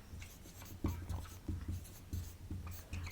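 Chalk or marker writing on a classroom board in a science lesson, a series of short scratchy strokes in quick irregular rhythm, close and fairly faint.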